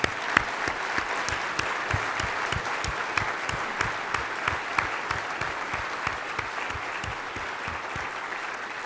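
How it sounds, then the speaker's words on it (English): Audience applause for honored researchers at a formal agency introduction, a sustained even roar of clapping from a large crowd with sharp individual claps popping out regularly throughout. "Please give them a round of applause."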